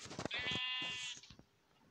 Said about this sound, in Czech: A udělal jsem si hlavně ovce.